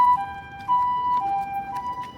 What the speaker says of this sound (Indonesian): Di belakang ada ambulan.